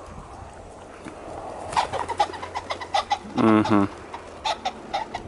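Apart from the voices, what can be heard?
birds calling at a pheasant farm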